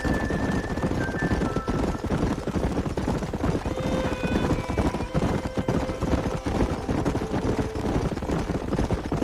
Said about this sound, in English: There's the horses! Get that lasso ready!